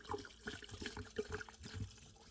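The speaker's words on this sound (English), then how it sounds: "Next, pour in your bottle of soju" Soju pours from its bottle into a serving jug already holding Yakult, a soft, gurgling trickle of liquid that rises and falls in uneven glugs, faint and close.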